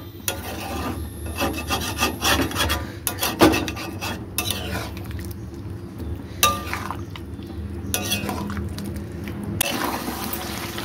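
Biryani masala being stirred through braised meat in a cooking pot, giving steady scraping and rubbing strokes of a utensil with wet, thick mixing sounds, fairly close and continuous, with no one talking.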